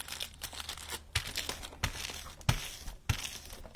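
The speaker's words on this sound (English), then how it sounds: "fold it once, okay? And then fold it again" A paper pharmacy bag is folded into an envelope, giving close crinkling and rustling with a few sharper creases and taps, and no talking.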